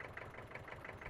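Hydraulic tipper trailer lifting in Farming Simulator 17, a low, steady pulsing engine-and-pump drone with rhythmic throbbing, moderately faint and alone.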